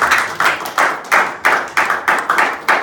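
A church congregation claps in rhythmic unison during a French-language worship service, eight steady, evenly spaced bursts of hand claps up close, with no talking over them.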